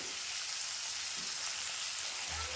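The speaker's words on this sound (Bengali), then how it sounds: "সুন্দর করে চিনি মাছটা ভেজে নিয়েছি" Fish, apparently prawns, frying in hot oil in a home kitchen pan, a steady dense sizzle that runs unbroken throughout, fairly close and with no voices over it.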